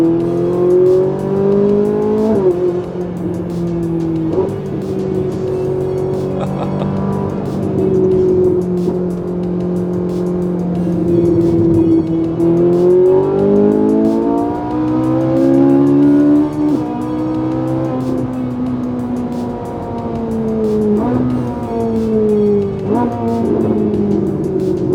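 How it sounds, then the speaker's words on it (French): A Ferrari 458 Italia V8 fitted with an aftermarket exhaust is heard from inside the car. The engine drones loud and steady, rising and falling through gear changes, with no talking. "cette 458 a une petite particularité, peut-être que vous l'avez entendu depuis le début de la vidéo, elle a un échappement"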